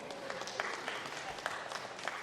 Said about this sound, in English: Round of applause for 74.